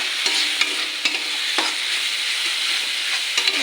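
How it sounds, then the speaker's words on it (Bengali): Prawns and spices stir-fried in hot oil, a steady bright sizzle broken by repeated scraping clicks of a spatula against the pan, close and fairly loud. "ভালো করে একটু নেড়ে চেড়ে নেবো কষে নিই মশলাটা"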